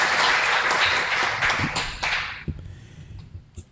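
Audience applause at a constitutional-law forum at a Peruvian Constitutional Court event, a dense burst of clapping that fills the room and then thins out and fades after a couple of seconds, leaving quieter room sounds.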